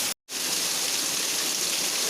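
A natural waterfall pours down a hill with a loud, steady rushing hiss of falling water, close and constant after a brief silent gap at the start.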